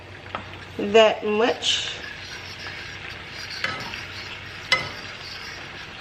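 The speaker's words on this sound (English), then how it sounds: "making sure I'm stirring it around to see if it's enough garlic" Minced garlic sizzles and crackles in foaming butter as it is stirred around a pan for shrimp scampi, a steady frying hiss running beneath a person talking.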